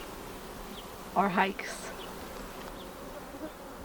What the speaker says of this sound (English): It sounds like a big swarm of bees.